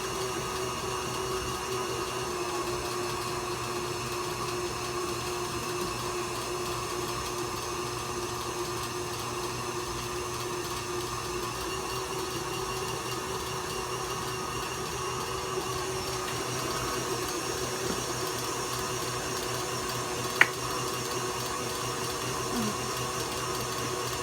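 An electric mixer runs steadily through white cake batter, a continuous even motor whir with a faint single click partway through, close and alone without talk.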